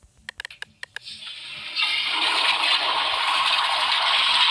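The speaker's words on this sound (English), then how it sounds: "Let me flush it again." A few sharp clicks and taps lead into a toilet flushing in a Roblox school restroom, a steady rushing hiss of water that starts abruptly and continues to the end.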